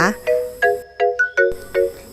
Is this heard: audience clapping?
no